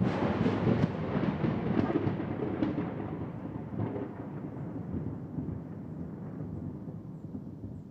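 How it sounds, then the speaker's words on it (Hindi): Deep rumbling thunder rolls over a steady wash of rain, loud at first and slowly easing off over several seconds. "बारिश और बादलों की खन गरज को महफूज कर लेना चाहता हूँ।"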